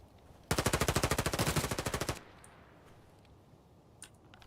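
Rapid automatic gunfire in a video game, a single sustained burst of evenly spaced shots lasting under two seconds, followed by quieter ambience and a faint distant crack.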